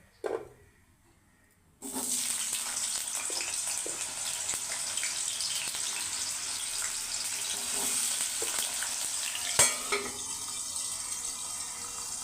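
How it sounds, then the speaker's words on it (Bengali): Potatoes frying in hot oil in a wok, a steady loud sizzle that starts abruptly after a short quiet pause and continues unbroken, with a brief clatter near the end. "তেল গরম হয়ে গেছে প্রথমে আলুগুলোকে ভেজে নেব"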